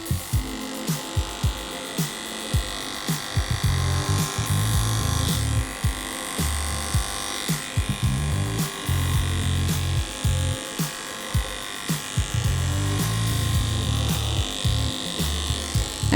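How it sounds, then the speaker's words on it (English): Wahl KM Supera electric clipper fitted with a 5 blade clipping a dog's body, a steady close buzzing hum with small dips and changes in load as it moves through the coat. "I'm gonna switch to my KM Supera with a 5 blade and clipper the body."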